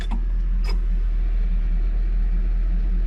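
A ZIL 130 dump truck's engine runs steadily while the body is raised, a constant, close low rumble with a brief faint click near the start.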